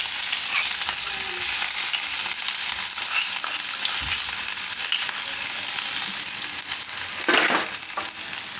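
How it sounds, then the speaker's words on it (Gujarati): Mustard seeds, cumin, garlic and green chilies fry in hot oil over a lowered flame, a steady dense sizzle with a brief burst of spattering near the end, close and continuous with no talk. "એમાં રાઈ નાખશું થોડીક અને જીરું ગેસ ધીમો કરી દીધો આપણે હવે આ લસણ અને મરચાં"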